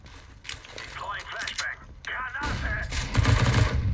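Rapid bursts of gunfire spraying in a Wingman-mode shooter match, loud and close, with the shots growing denser and heavier toward the end while a voice talks over them.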